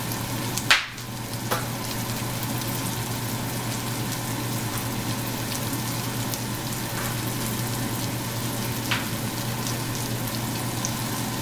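Okra masala with green chili sizzles gently in a pan, a steady low frying hiss running throughout with a couple of brief clinks as it is stirred.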